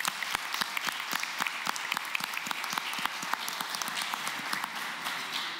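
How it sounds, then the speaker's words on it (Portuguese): Applause for Natasha during a municipal council session, a room of people clapping steadily with crisp individual claps, moderately close and even throughout. "uma salva de palmas aqui para nossa querida Natasha"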